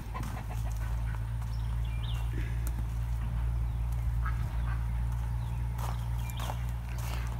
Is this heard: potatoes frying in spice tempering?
no